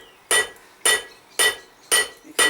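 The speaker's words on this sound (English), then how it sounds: "I'm using the new hammer here that I got for Christmas" A 1.5 kg hammer strikes steel round bar on an anvil while forging a barbecue grilling fork, five loud ringing blows at an even, steady pace with short gaps between them.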